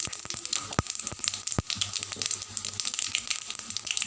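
Dry red chillies frying in hot oil for a sambar tempering sizzle softly, a quiet steady crackle with a few sharp pops, close and alone.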